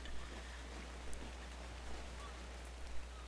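Steady rain falling in the video game ARK: Survival Evolved, a soft continuous hiss with no clear individual drops, moderately quiet and alone.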